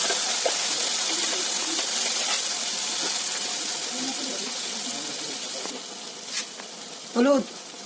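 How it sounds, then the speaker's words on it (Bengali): Spice paste fries in oil left over from frying potatoes for a chicken curry, a steady soft hiss close by, with a few faint clinks and a brief voice near the end. "আলু ভাজা তেলে মশলাটা ভেজে নেব।"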